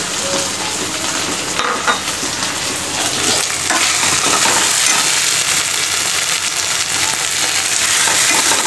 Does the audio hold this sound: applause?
no